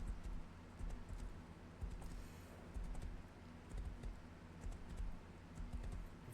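A horse in the survival game Rust trots along with faint, steady clip-clop hoofbeats, an even rhythm of soft low thumps at a quiet level.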